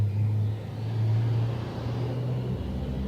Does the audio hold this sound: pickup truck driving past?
yes